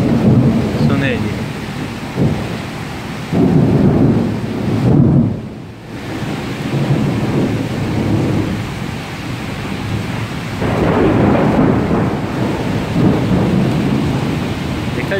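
Rolling thunder rumbles through steady rain in Karachi, with heavier surges of low booming that swell and fade over the downpour.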